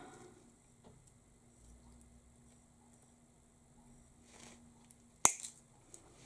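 Craft wire for a Christmas charm is snipped off with a single sharp, close click from the cutters after a quiet stretch of faint handling noise, followed by a few small rattles.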